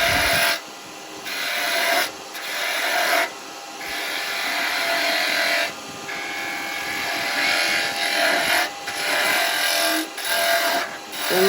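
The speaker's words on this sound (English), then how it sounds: "So I'm just taking some of this away with this gouge" Gouge cutting into wood spinning on a lathe while turning a spinning top, giving a steady scraping, rasping hiss that pauses briefly between passes.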